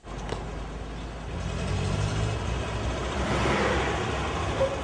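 First-series SEAT 600 small car engine running nearby, a steady mid-pitched hum that swells louder as revs build toward the end, with a faint click near the start and no voices.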